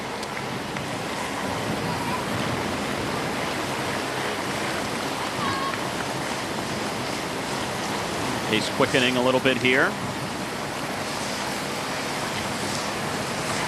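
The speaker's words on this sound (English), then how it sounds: "Standing water, rain continuing to fall." Steady broadband hiss of rain falling on wet roads with standing water during stage 4 of the 2009 Vuelta a España cycling race, continuous throughout under a commentator's voice, with a brief louder burst partway through.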